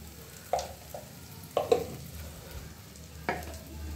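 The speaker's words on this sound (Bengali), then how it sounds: "মশলাগুলো ভালোভাবে মিশিয়ে নেব।" Spices for palak paneer are stirred and fried in a pan: a soft sizzle runs underneath while a spoon scrapes the pan in a few distinct strokes, close and fairly quiet.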